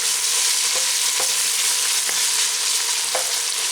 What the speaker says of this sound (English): We're going to saute this in that oil.